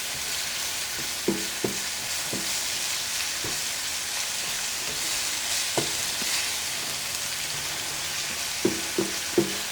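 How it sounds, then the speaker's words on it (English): Garlic sautéing in a pot: a continuous soft hiss of frying oil runs throughout, with a few faint clicks and scrapes of a spoon stirring it around, and no talking. "we will let that garlic cook for about 30 seconds to a minute before we add anything else to it"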